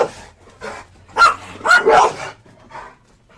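Dogs bark nearby in a quick run of loud, sharp barks and yips, with a short quieter gap before a final bark, clear in a quiet room.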